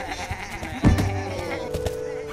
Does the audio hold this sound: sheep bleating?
yes